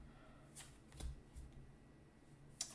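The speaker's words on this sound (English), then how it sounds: "I like to shuffle up my cards." Trading cards from a One Piece card game being shuffled, a few soft riffling bursts spaced out with a sharper snap near the end, close and quiet with no talking.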